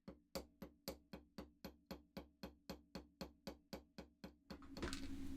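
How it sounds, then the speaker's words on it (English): Sixteen crisp, evenly spaced metal hammer strikes flatten wire for a gemstone chip Tree of Life pendant, ringing close and loud before a rough scraping noise takes over at the end. "I'm going to hammer this flat"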